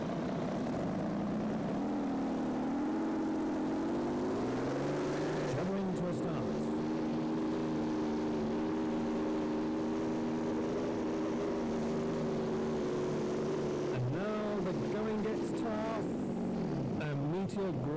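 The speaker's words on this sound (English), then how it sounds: "It's called Meteor because it's powered by a Rover Meteor tank engine." A Meteor pulling tractor powered by a Rover Meteor tank engine roars through a run at a 1997 European tractor pulling event in Windenhof, France, a loud sustained drone rising in pitch then holding steady, with an announcer talking over it.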